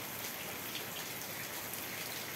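Heavy rain falling steadily, a dense and even hiss of drops with no breaks, close and moderately loud, with no voices.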